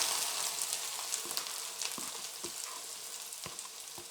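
Chopped onions fry in hot oil, making a faint, steady sizzle with scattered soft pops and a few light taps, close and with no voices.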